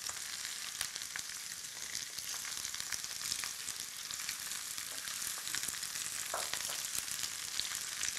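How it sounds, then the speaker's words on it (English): Scallions sautéing with a pinch of salt in a hot pan for Italian frittelle, giving a steady close sizzle with faint spoon scrapes throughout and no talking. "We're just gonna saute this for a little bit until our scallions are a little bit soft"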